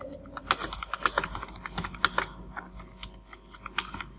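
A name is typed on a computer keyboard: crisp, uneven key clicks up close, tapping in quick bursts with brief pauses, alone with no talk.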